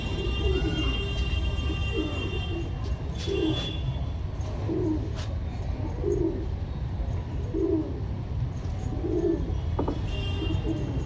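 Pigeons coo in soft, repeated low phrases at a regular pace over a constant rushing background hum, with a few faint chirps from other birds.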